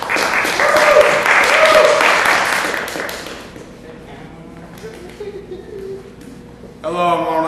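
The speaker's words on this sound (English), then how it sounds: "Please give them a round of applause." Audience applause for the actors at a Junction High School team performance, a dense burst of clapping that fades after about three seconds into quieter room noise, with a voice briefly speaking near the end.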